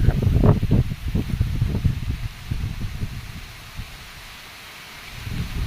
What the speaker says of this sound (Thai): ลมก็แรงด้วยนะครับ